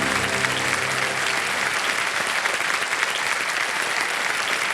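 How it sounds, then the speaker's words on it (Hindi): A game-show studio audience at Kaun Banega Crorepati applauding a contestant, a loud, full burst of clapping that opens over a brief musical sting and continues steadily alone. "तालियां बजती रहे जसमीन जी के लिए।"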